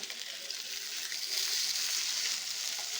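Fish frying in a pan with a little milk gives a steady, close hiss of sizzling oil that stays level and continuous, with no talking.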